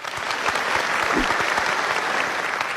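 An indoor audience gives a dense, steady round of applause that continues unbroken at even loudness throughout, with no speech over it.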